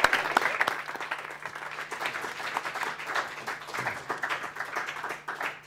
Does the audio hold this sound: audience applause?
yes